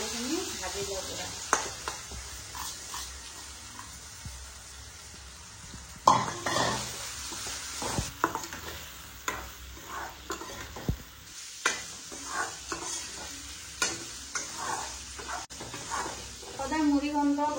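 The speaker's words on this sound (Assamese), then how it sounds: "চাউল আৰু দালিখিনি ভাজি লওঁ পুৰা" Rice and dal being stir-fried in a pan, with sizzling hiss and repeated scrapes and stirring strokes, some sharp utensil knocks, and voices talking in the background.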